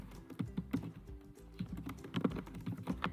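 Typing on a computer keyboard while entering a company name in MS Word 2019, an irregular run of soft, close key clicks in small bursts with short pauses, no talk.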